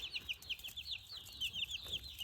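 Chickens clucking softly while pecking at broiler feed on a farm, a steady run of short chirpy calls from several birds close by, with faint background noise.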